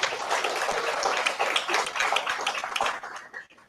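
A church congregation gives a loud welcoming applause: dense, continuous clapping from many hands that thins out and fades near the end, with no speech over it.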